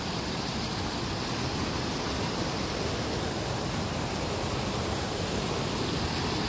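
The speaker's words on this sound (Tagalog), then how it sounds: "Para siyang dam na may running water." Water running over a dam-like structure at a bridge, a steady, loud, unbroken broadband rush that holds constant throughout with no voices.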